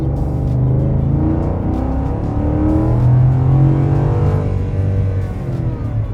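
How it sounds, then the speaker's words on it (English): A Ford F-150 pickup's 3.5L EcoBoost engine revving hard under full-throttle acceleration in the rain, a loud, continuous rumbling drone whose pitch climbs and sweeps, heard up close with no talking. "Now watch this EcoBoost just bury the RPM needle in the rain too."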